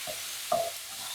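Garlic and tomatoes being stirred in a pan for Algerian couscous, a soft sizzle underneath and a brief scraping stir near the middle, quiet and close.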